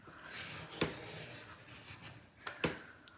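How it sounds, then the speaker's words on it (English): Circle cutter blade drawn around a medium circle in white cardstock, a soft continuous scraping rub with two sharper scratchy ticks, close and quiet, no voices. "we're going to need the medium circle with our green blade, and you need to cut one from the inside track"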